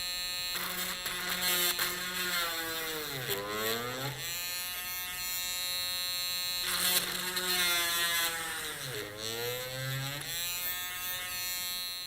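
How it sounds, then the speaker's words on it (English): A small electric drill drilling holes in a printed circuit board hums steadily, its pitch sliding down and back up twice as it bites into the board, close and fairly quiet. "Switch on the drill"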